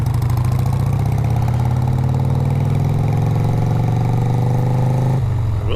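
A motorcycle engine runs steadily and loudly while riding, a constant close rumble with a slight dip in pitch just before the end.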